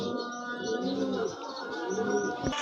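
Cooing from a pair of big-sized black check Mukhi pigeons, soft repeated throaty coos with faint chirps, steady and close, no talking.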